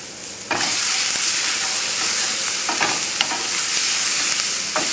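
A veal rack mixture poured into a hot pan, a sudden loud burst of sizzling that settles into steady crackling with occasional stirring clicks, close and unaccompanied by talk.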